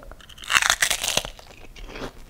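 Crisp, close crunching as someone bites into crunchy fried seaweed chips (gim-bugak), with a few loud crackling bites and no talking.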